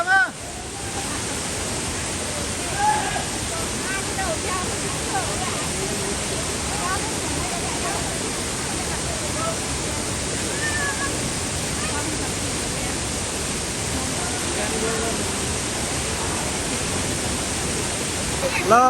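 Jaljale waterfall near Pokhara, Nepal, swollen after rain, pours in a loud, steady, close roar of rushing water that fills the whole stretch without a break.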